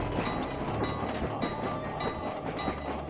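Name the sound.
train ride in Sly 2 Band of Thieves video game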